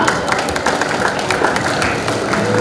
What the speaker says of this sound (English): let's have a big round of applause for Team Suchitra